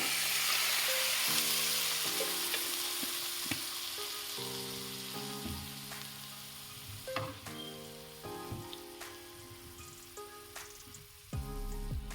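Spice paste sizzling and bubbling in a pan just after water is added, a steady crackling hiss with irregular pops and spits that slowly quiets, close and without talk.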